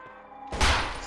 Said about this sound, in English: I like the super shotgun.